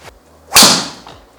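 A single sharp, loud crack of a Ping G430 Max 10K driver striking a golf ball, ringing briefly before fading out, with a faint click just before it.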